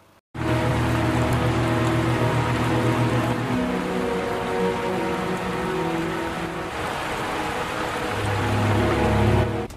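Heavy rain pours steadily outside a dojo in the film Kenshin The Beginning, a dense continuous hiss that starts abruptly and holds without pause.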